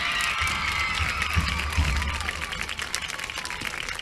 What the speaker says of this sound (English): Let's give all of our homecoming court one more round of applause.